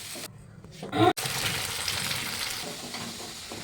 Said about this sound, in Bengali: আগে ডিমটা ভাজবো